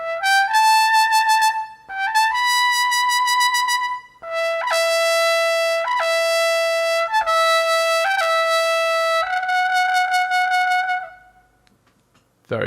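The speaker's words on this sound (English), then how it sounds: "yep, flugelhorn." A SWAM virtual flugelhorn by Audio Modeling plays a clean solo melody of sustained tones, some notes held long and others short, separated by brief gaps before a final fade.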